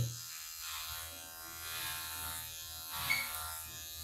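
An electric hair clipper with a number 2 guard cutting straightened hair, a steady close buzzing hum running the whole time with a slight rise near the end, no talk.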